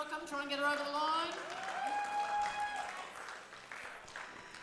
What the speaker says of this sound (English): big cheer for Christy coming out